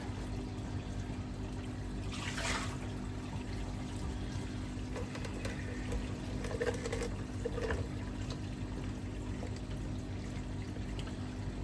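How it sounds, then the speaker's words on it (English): Water poured out of an AquaWiz KH tester, a faint trickling and splashing over a steady background hum, with brief louder pours scattered through. "Right, let's get that water out of the way."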